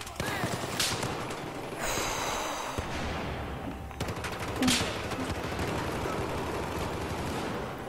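Gunfire from a sniper in a video game cracks out in a few sharp, separate shots over a busy game soundscape, with a voice talking at times.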